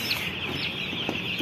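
Seven-day-old chicks on a poultry farm peep in a dense, continuous high chorus, many birds together at steady volume, with a few soft thuds underneath and no talk.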